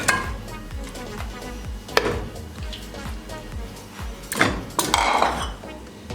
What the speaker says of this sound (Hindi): अब चिकन ऐड करेंगे।